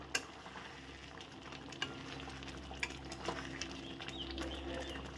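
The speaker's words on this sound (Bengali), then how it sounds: "তো এখন কিছুক্ষণের জন্য ফুটতে থাকুক।" Masala water for a jackfruit curry boils in a pot, a soft, steady bubbling hiss with faint scattered pops and clicks, quiet and unbroken throughout.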